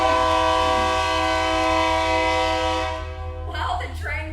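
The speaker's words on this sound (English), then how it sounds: "While the train goes by" Train passing by during an outdoor core workout, a steady loud horn-like tonal drone holding for several seconds, then fading into rumbling noise and clatter as it moves on, with no talk.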